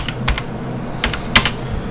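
Quick bursts of keystrokes on a computer keyboard as a command is typed, a few short clusters of clicks spread over two seconds, close and clear with no talking.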